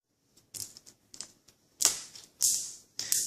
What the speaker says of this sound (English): just dropped the dice